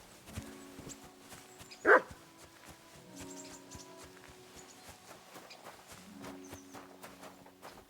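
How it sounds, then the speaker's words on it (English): A dog barks in a village in Kingdom Come: Deliverance II, one short loud bark over a low ambient bed of game sounds and faint animal noises. "Barking."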